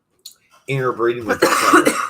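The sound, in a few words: cough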